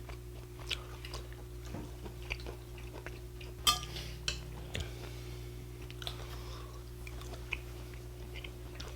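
Quiet, close chewing of air-fried and pan butter-grilled lamb skewers, soft wet bites spread across the stretch with an occasional faint clink of cutlery or dishes over a low steady hum.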